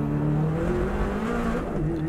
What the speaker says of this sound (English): The car just cut out then